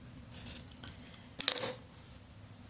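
Scissors snipping through fabric during a sewing project, a few short crisp cuts in two quick bursts, close and fairly quiet with no talking.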